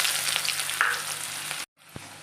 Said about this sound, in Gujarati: હવે આ ડુંગળી નાખી દઈશું।